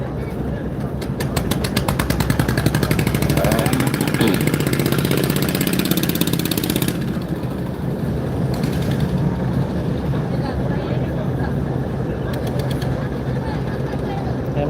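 Large 90-metre, 300-foot passenger launch engine running steadily in reverse gear while backing out, a loud continuous low drone with a rough throbbing texture that eases slightly partway through.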